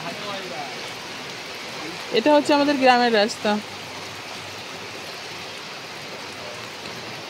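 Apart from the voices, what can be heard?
heavy rain on a village road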